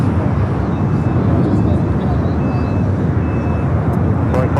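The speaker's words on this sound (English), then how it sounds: "This is Air Premia 102 taking off to Seoul on the" An Air Premia Boeing 787-9 Dreamliner takes off from runway 25 at LAX. Its jet engines give a steady, broad roar that holds from start to finish, with faint talk underneath.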